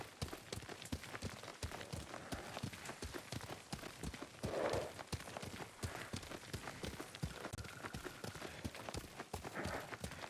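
Horse hooves clip-clop at a steady riding rhythm in Ghost of Tsushima, quiet and even, with soft ambient wind beneath and no talking over them.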